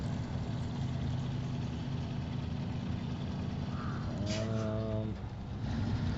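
Truck engine in the off-road driving game SnowRunner, a steady low rumble holding throughout with a brief rising rev near the end, fairly loud and continuous with no talk over it.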